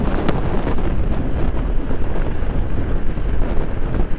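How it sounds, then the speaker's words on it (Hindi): Hot wind in 45-degree summer heat near Bahadurgarh buffets a GoPro microphone, making a loud, constant rumbling roar with gusty low-end flutter throughout and no voices. "इतनी गर्म हवा चल रही है"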